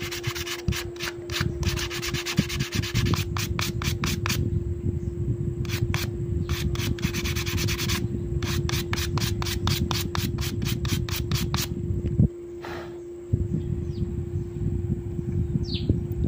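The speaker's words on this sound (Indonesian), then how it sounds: "Kita amplas bagian bawahnya dulu, bagian ya belakang tadi yang barusan kita potong." Steady back-and-forth rubbing of 100-grit sandpaper on a handmade frog fishing lure, continuous and close, with a constant hum and occasional faint bird chirps.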